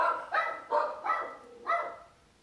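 Several short dog barks, four sharp yips in quick succession with a brief pause before the last, fairly close and clear.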